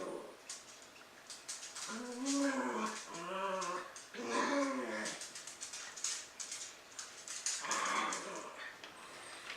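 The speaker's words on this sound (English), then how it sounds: "Pardon all the sound from my dogs." Dogs whimper, whine and yip in a run of high, wavering cries, with small growly noises in between, fairly close by, as they play indoors.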